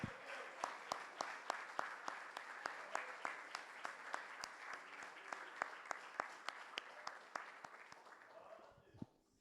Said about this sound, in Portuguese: Você pode aplaudir o Senhor pela sua palavra?